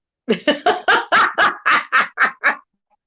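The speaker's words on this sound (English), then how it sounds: "My dog wants to join in." A small poodle barks ten times in a quick, even series, each yap sharp and close, then falls silent.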